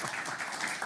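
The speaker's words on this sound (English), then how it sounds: "And you can applaud if you want." A short burst of audience applause at a finance conference panel, a dense, even patter of clapping at moderate loudness with no voices.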